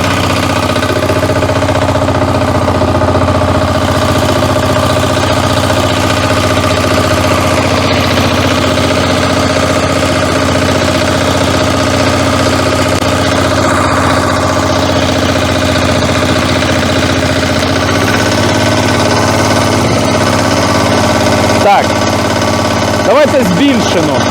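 A Motor Sich 12-horsepower walk-behind tractor engine runs steadily and close by throughout, a constant droning rumble with faint knocking, while a person talks over it at times.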